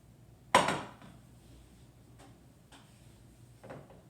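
A preheated oven, set to 350 degrees, is opened for a tray of veal, giving one loud close clunk followed by a few fainter knocks and clicks in a quiet room.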